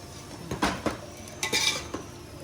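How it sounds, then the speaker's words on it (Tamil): Ground tomato being sautéed in a pot, with a few sharp metallic clanks and scrapes of a spoon against the vessel over a faint sizzle, close and brief. "அரைச்சி வச்சுருக்கிற தக்காளியை போட்டு வதக்கணும்"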